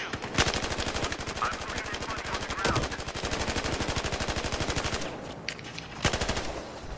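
Rapid automatic gunfire rattles in Battlefield Hardline, long sustained bursts of evenly spaced shots with a brief pause before a final burst, loud and close, with someone talking faintly underneath.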